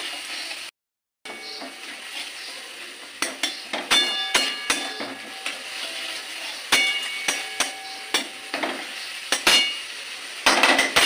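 Chilli baby corn stir-fried with sugar in a pan: repeated sharp metal clanks and scrapes of a spatula against the pan over a soft sizzle, in an uneven rhythm.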